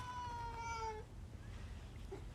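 A cat gives a single drawn-out meow lasting about a second, close and clear, then falls quiet over a low background hum.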